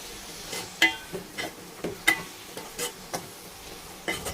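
Two washed, cut tomatoes are stirred as they fry in a pan for a flat-bean fry. Quiet spatula scrapes and clicks arrive in an uneven string over a low sizzle.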